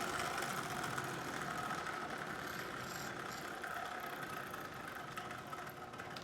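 A Lionel toy train runs on AC power from a Lionel 1033 90-watt transformer, giving a steady, faint mechanical whir and hum with a light rattle, continuous and without voices.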